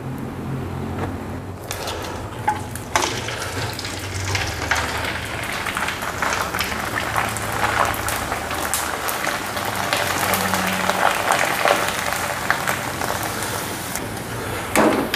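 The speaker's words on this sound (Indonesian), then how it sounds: "Ini dia, opak jagung manisnya sudah saya goreng," Sweet corn crackers (opak jagung) sizzle in hot oil with a steady, dense crackle and hiss that builds and stays loud and close throughout, with no talking.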